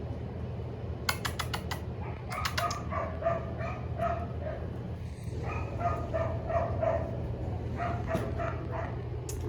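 Six-week-old puppies yip and bark in a run of short, high bursts, close by and moderately loud, over a steady low hum, with soft whimpers between the bursts.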